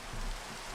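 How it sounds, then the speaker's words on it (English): Steady, soft rain hisses evenly in the Minecraft video game, a faint continuous wash of falling drops with no other sounds over it. "Oh no, it's raining."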